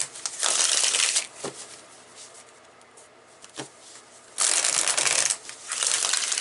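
A deck of tarot cards is shuffled by hand in bursts of crisp riffling and rustling, loud and close, with a quieter pause in the middle before another vigorous shuffle, no voice.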